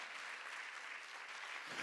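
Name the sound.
church congregation applause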